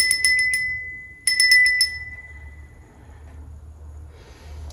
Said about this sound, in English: I'm going to ring this bell to cleanse any negative energies.